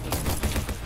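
Rapid bursts of suppressed gunfire from a silenced weapon in the Roblox shooter Bad Business, five or six muffled shots in quick, steady succession, loud and close.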